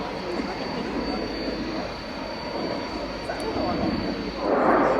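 A MiG-29 Fulcrum jet flies a display at the Royal International Air Tattoo 2015, its broad engine roar steady and distant before swelling louder near the end, with a commentator talking over it.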